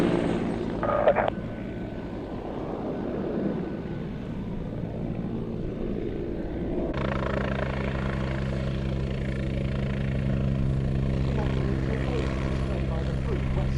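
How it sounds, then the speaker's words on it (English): A Westland Wessex HAS1 helicopter at a Fly Navy airshow, its steady engine and rotor drone rising to a sustained, stronger rumble with harmonic tones partway through, with speech heard over it. "By the crew, Westland Wessex, HAS1"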